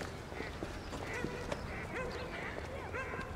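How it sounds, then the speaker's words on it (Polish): Ducks quack repeatedly in an open-air spot in Munich where people feed them, amid steady background bustle and occasional voices. "Myślałem, że nie można karmić kaczek."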